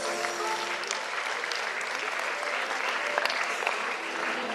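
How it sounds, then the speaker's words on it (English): A crowd applauding steadily and loudly throughout, with a few sharper claps standing out and faint voices mixed in. "Come on, louder with the applause,"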